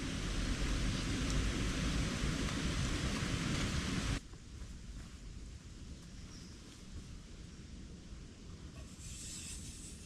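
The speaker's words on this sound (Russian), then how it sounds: "Опять дождь пошел." Rain falling steadily outside Devil's Cave, a dense hiss of drops that is loud and close at first, then abruptly drops to a softer, more distant patter for the rest.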